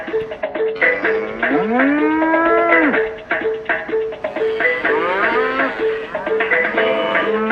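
Cattle low in a series of long, loud moos, several drawn-out calls rising and falling one after another, close by and with no talking over them.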